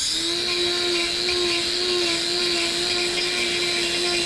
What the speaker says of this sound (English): Now we're going to polish this claw off so that we can put a block on it.